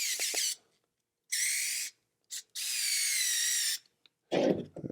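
A power drill drives screws into an arcade machine in several loud, close whirring bursts of rising pitch, separated by short silences, ending with a rougher grinding burst.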